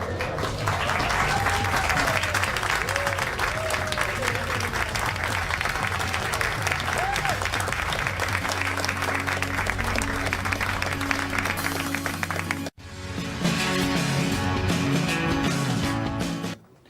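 A studio audience on a late-night talk show boos, a dense, sustained crowd roar that fills most of the clip before breaking off sharply near the end and returning briefly.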